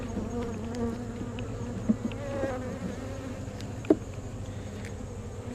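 Honeybees hum in a continuous, moderately faint buzz around an open hive during an inspection, with a couple of brief soft clicks or knocks from handling.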